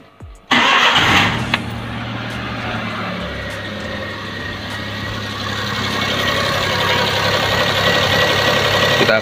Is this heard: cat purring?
no